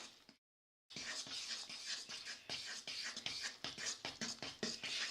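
Chicken and waffles batter being whisked in a bowl, a quick run of scraping, swishing strokes close to the microphone after a brief silent gap at the start.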